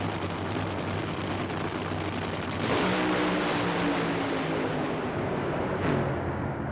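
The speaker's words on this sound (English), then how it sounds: "An explosion so loud it rocked Forrest to his knees." A loud, sustained roar of NHRA drag racing car engine noise swells and thunders, with a sudden engine explosion surge partway through and a rumbling, explosive quality continuing to the end.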